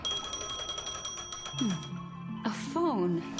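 A trilling telephone bell in Honkai: Star Rail rings in fast repeated bursts over a background game score, then gives way to rising and falling melodic tones, with a short voice near the end.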